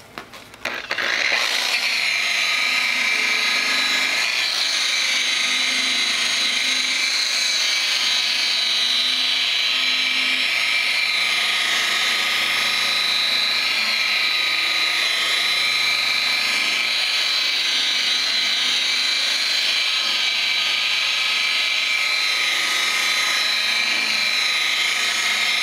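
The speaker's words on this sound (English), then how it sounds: "You need to be very aggressive with a wool pad in order to get out those sand scratches." A rotary polisher with a wool pad aggressively compounds sand scratches out of a new paint job on a Ford. It runs as a loud, steady high-pitched whine for the whole stretch after a brief spin-up, with no talking.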